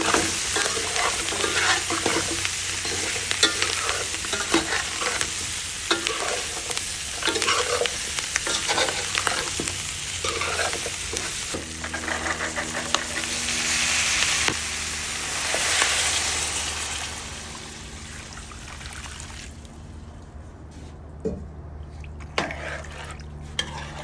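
Garlic, thyme and pimento seeds fry in a pot for a stew peas dish, giving a steady loud sizzle with stirring scrapes and occasional utensil clinks, easing toward the end.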